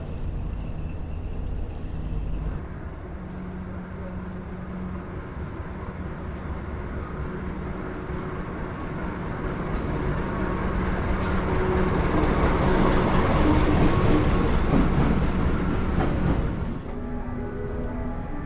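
Senja Utama passenger train pulling into Yogyakarta station, a steady low rumble of wheels and carriage noise that swells toward the end before easing, heard from on board.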